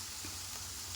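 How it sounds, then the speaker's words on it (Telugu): Ivy gourd pieces frying in a pan for a dry chickpea-flour fry, giving a steady, even sizzle close by with no talking over it. "మనకు దొండకాయలు ఈ విధంగా ఫ్రై కావాలి"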